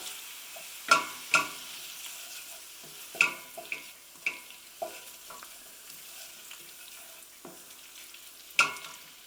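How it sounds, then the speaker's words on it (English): A spoon stirs smoked paprika into vegetables frying in a pan for a vegetable goulash. A steady low sizzle runs throughout, broken by a dozen or so sharp scraping clicks at an irregular pace, close and fairly quiet. "Give it a stir."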